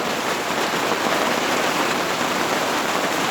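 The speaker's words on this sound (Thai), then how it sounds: "ฝนตกแล้ว" Steady rain falls heavily and evenly, a dense continuous hiss of drops on surfaces with no other sounds.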